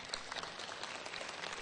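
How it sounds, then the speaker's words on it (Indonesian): Audience applause at an indoor seminar on transdermal patches, a short burst of dense, steady clapping from a crowd at moderate loudness with no clear speech over it. "Boleh tepuk tangan buat kita."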